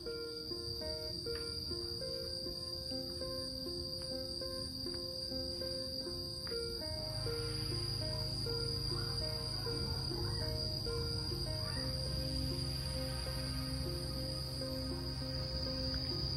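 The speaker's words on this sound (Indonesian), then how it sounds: "suara jangkrik" A continuous high, ringing chorus of crickets chirping steadily on Mount Tidar, Magelang, with a low background drone and faint tonal sounds underneath.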